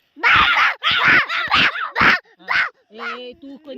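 A voice imitates a dog barking, a run of loud, sharp bark-like yelps followed by a few softer, whiny yips trailing off, outdoors on a farm.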